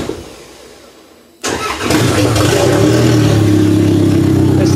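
A demolition derby car's engine is hot-wired and cranks briefly, then catches and settles into a loud, steady idle, close up with no talking.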